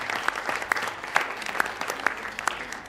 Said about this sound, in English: to give a big applause to our panelists